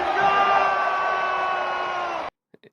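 A dense crowd roars and cheers steadily at an AEW wrestling event in a video game trailer, loud and continuous with shouts and whoops, then it cuts off abruptly into near silence with a couple of faint sounds.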